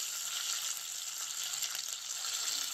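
Pieces of food shallow frying in a pan of oil, a steady close sizzle with soft crackling throughout and no voices.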